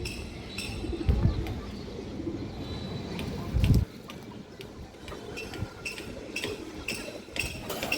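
Pigeons in a loft, including a lively hen, give soft, low, repeated coos nearby, with occasional faint clinks and chirps mixed in.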